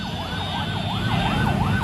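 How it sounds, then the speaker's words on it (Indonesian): An ambulance siren wails in a steady, repeating up-and-down sweep, loud and close, over low traffic rumble on a road blocked by a student protest between Bulukumba and Bantaeng, Indonesia. "ambulans, mundur Mas Aksi, kasih jalan"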